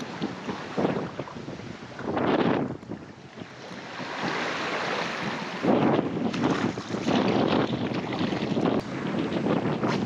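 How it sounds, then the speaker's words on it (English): Strong wind of about 30 miles an hour blows across open water on a snook fishing trip, with loud gusty rumbling and buffeting against the microphone, waves washing nearby and no talking. "look at these conditions, blowing 30 miles an hour, have wind against tide"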